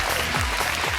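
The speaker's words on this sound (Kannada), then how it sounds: "ಬರಲಿ ಜೋರಾದ ಚಪ್ಪಾಳೆ" An audience claps for a woman who has just won a household game in a family entertainment show, a short burst of dense, close hand-clapping filling the whole moment without talk.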